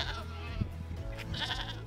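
A goat bleats on a farm, a wavering nasal cry standing out near the close over a steady low background hum.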